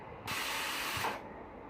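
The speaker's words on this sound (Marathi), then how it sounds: "एक पाच ते सहा अशा कुकरच्या शिट्ट्या झाल्यानंतर आपण गॅस बंद करूयात" A pressure cooker cooking mutton lets off steam in a single hissing burst of about a second. It is fairly faint and heard alone.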